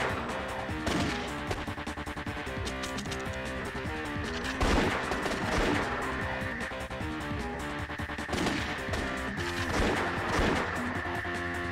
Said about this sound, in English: let's shoot out the tires, but only the British tires